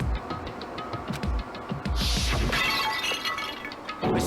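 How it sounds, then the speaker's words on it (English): Monokuma bottle smashed over a head in the video game Danganronpa, a sharp glass shatter followed by tinkling shards scattering for a couple of seconds over low background music. "I grabbed the Monokuma bottle from the shelf and smashed it across her head."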